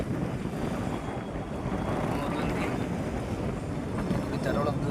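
Wind and sea noise aboard a fishing boat out on the Arabian Sea, a constant broad rushing roar with buffeting gusts and water wash, moderately loud and continuous.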